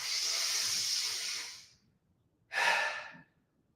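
Deep breathwork during mountain athlete training: a long, loud breath drawn close to the mic and fading out, a short pause, then a second brief forceful breath, airy and hissing with no talk.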